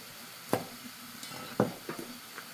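Bok choy is tossed in a pan with a quiet sizzle, a few distinct utensil scrapes and clinks spaced over a couple of seconds.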